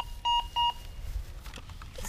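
Two short electronic target tones from a Minelab Go Find 20 metal detector sound in quick succession, clear and close, followed by faint handling and ground noise.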